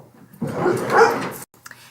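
A dog gives a short, loud burst of barking and whining up close, lasting about a second, followed by quiet.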